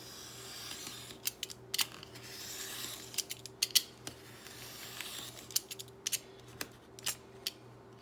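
Scissors snip and trim paper for a handmade journal, giving a series of quick, crisp cuts in irregular bursts, close up and fairly quiet over a low steady hum, with no talking.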